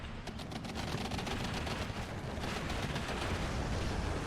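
Dense, continuous battlefield gunfire from a Steel Division 2 World War II strategy game match, a steady wash of rifle and machine-gun fire with rumbling bursts, loud and sustained throughout with no talk over it.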